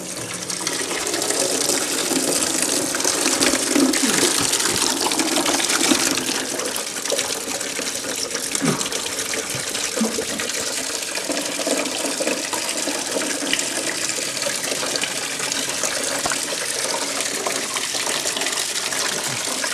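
Coolant drains from the engine block of a Mercedes 300D, making a steady, continuous gushing splash of liquid that runs for the whole stretch with no voices.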